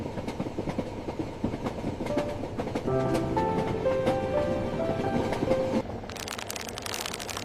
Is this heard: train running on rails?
yes